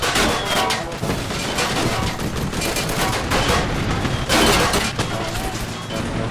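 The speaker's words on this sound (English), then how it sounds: "Some BTR 60 are firing" Animated war battle effects with BTR-60 armoured vehicles firing: dense, loud bursts of rapid gunfire and blasts come in heavy waves, and a voice talks over the din.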